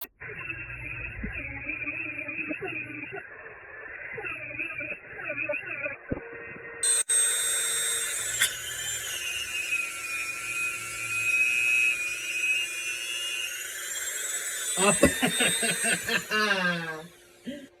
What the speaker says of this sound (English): now we're going to move on to polishing.